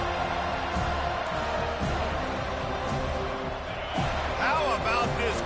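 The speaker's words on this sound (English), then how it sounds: "How about this crowd rattling the rafters and trying to help their defense?" A football stadium crowd roars and cheers continuously, with thuds and whoops inside a loud, reverberant arena while a play unfolds, and a commentator's voice mixes in.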